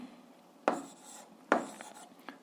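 A pen or chalk scratches out an algebra solution, with soft rubbing strokes punctuated by two sharper taps of the tip striking the surface and a lighter one at the end, close and quiet.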